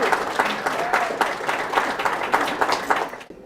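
An audience at a medical lecture and award ceremony claps loudly and steadily throughout, a dense wash of many hands that tapers off abruptly at the very end.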